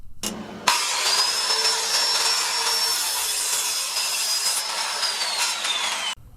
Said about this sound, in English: We're going to cut that line.